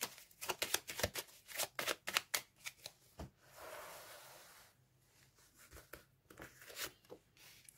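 Tarot cards shuffled by hand for a reading, a quick close riffle of papery flutters and taps followed by a softer rustle and a few scattered snaps, with no speech.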